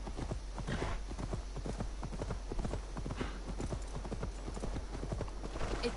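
Steady clip-clop of horse hooves trotting at an even rhythm in the video game Assassin's Creed Valhalla, close and clear, with a faint background hum and no talking.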